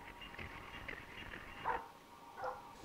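Dog barking in the stealth video game Splinter Cell: Blacklist, a few faint, short barks at moderate distance against quiet game ambience.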